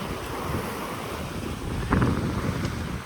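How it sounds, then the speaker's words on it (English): Water rushes under the hull of a 28ft sailboat moving fast at sea at night, a steady broadband wash mixed with wind buffeting on the microphone, swelling slightly near the end. "You can just hear the water rushing underneath the hull."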